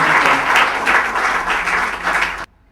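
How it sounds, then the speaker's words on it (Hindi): Audience applause welcoming a speaker to the stage at a Hindi Diwas event, a dense, steady burst of clapping from a crowd that cuts off abruptly near the end. "दोस्तों से अनुरोध करता हूं कि एक जोरदार तालियों के साथ"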